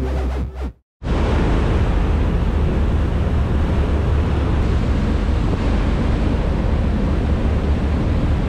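Strong wind buffets the microphone on the coast of Elba at Sant'Ilario, a loud, steady roaring rush that begins after a brief dropout and continues unbroken.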